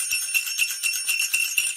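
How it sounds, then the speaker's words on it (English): Real sleigh bells, once hung on a front door at Christmas, shaken in a quick, steady rhythm, bright metallic jingling pulsing several times a second, close and clear with no talk. "We even have some sleigh bells."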